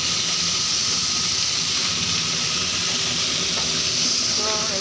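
Vegetables such as eggplant and papaya for shukto fry in oil in a pan, giving a loud, steady, close hiss and sizzle that continues throughout with no pauses.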